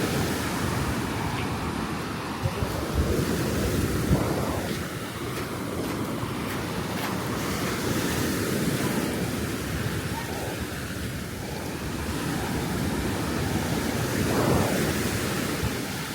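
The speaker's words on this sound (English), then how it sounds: "Probably because the waves are the friendliest here." Surf rolling in at Kamala Beach, Phuket, Thailand, a steady wash of waves with wind noise on the microphone, continuous and fairly loud with a few swells cresting and no talking.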